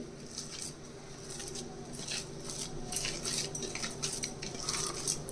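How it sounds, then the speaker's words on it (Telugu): Grated coconut for chutney being mixed by hand on a plate, giving soft, faint, irregular scraping and pattering touches close by. "ఇప్పుడు ఈ కొబ్బరి ఇదంతా కూడా చేతితోటి బాగా కలిపేయాలి"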